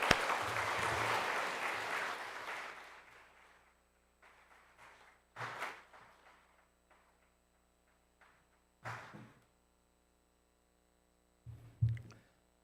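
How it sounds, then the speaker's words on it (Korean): A church congregation at a Segwang Church all-members retreat applauds to welcome a guest speaker. Loud clapping fills the first few seconds and fades out, followed by quiet room noise with scattered soft thumps and shuffles. "우리 나오실 때에 큰 박수로 환영해 주시기를 부탁드립니다."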